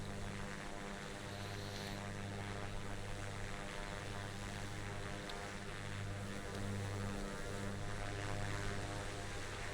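Steady, droning propeller engine of a Piper Comanche light aircraft in a flight simulator, cruising low over Tanzania, a constant close hum with even tone throughout and no talk.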